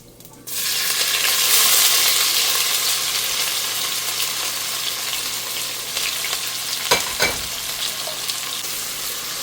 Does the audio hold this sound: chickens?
no